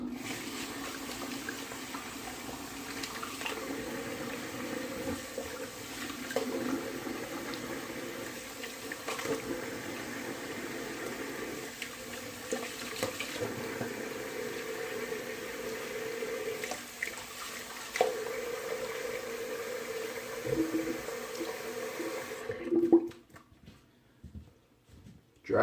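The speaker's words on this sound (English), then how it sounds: "So I'm going to give myself a cold water rinse." Cold water runs from a tap in a steady, even rush during a post-shave rinse, with splashing shifts as hands move through the stream, then it cuts off near the end.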